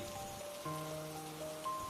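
Heavy rain pouring down in a forest, a soft, steady hiss of drops on surfaces with faint tonal hum beneath, fairly quiet and continuous throughout.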